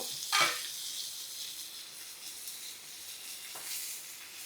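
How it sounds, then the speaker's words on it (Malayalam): Fish fries in a small amount of oil in a home kitchen, a soft steady sizzle with a sharp burst of spattering near the start and another brief flare toward the end. "ഞാൻ ഇത്ര എണ്ണയിലേ മീൻ വറക്കത്തുള്ളു കേട്ടോ കുറച്ചെണ്ണയിലേ ഉള്ളൂ"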